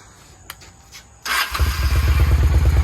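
A 1993 Honda Shadow 600 motorcycle with a newly installed carburetor is quiet at first apart from a few small clicks. About halfway through, the engine catches and starts, then settles into a loud, steady, rumbling idle.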